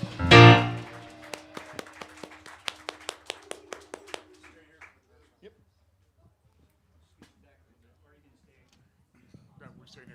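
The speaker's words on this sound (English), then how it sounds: "Give yourselves a big round of applause." An audience at the Hayshed breaks into a short burst of applause with a voice over it. The clapping quickly thins to scattered single claps that fade into near silence.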